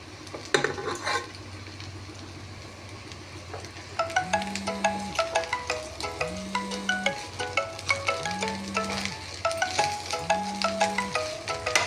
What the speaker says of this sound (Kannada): ಇವೆಲ್ಲ ಮಿಕ್ಸ್ ಮಾಡ್ತಾಯಿದ್ದೀನಿ